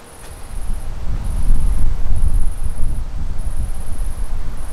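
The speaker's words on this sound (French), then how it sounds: "Il y a un peu de vent." Steady outdoor wind rumbling and buffeting a microphone, with a faint high electronic beeping repeating in short bursts above it.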